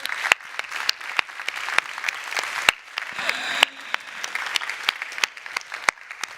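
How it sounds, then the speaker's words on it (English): Warm applause from a conference audience at the Brussels Forum fills the room, a dense steady patter of many hands clapping with a few sharper claps standing out, continuing throughout with no speech. "So please applaud them very warmly."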